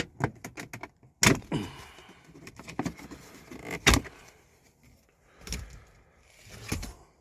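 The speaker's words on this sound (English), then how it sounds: "Take this little side piece right here, trim, and just pop it off." Plastic side trim being pried and popped off inside a 2014 Ford Explorer: a run of small clicks followed by several sharp, loud snaps at intervals, close up, with no talking.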